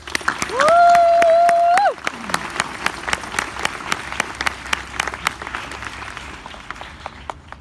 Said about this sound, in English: Graduates, please join me in giving them all a big round of applause.